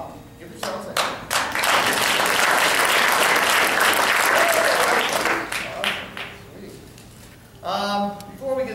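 A theater crowd at a magic show bursts into loud, sustained applause that swells and holds for several seconds, then fades into scattered claps before a short final burst.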